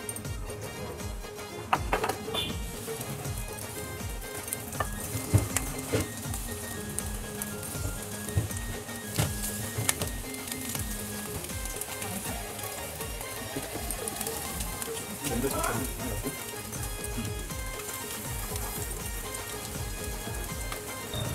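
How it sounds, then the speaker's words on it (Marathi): Mandeli fish frying in hot oil on a tava, a constant fine sizzle and crackle with scattered pops and faint clinks, low level and steady with no talk. "अशा प्रकारे बाकीची मांदेलीही फ्राय करून घेऊया"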